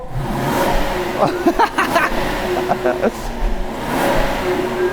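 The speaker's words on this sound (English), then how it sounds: "Clean out those exhaust pipes. Let's see just how smooth this Japanese 5-litre V12 engine is." Toyota Century with a Japanese 5-litre V12 engine, revving harder than before. The steady engine drone rises and falls through a few blips while someone talks over it.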